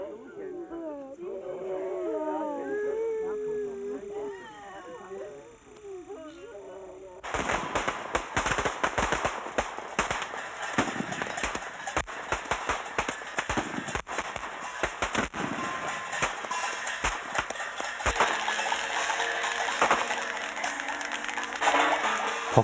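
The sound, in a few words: firecrackers bursting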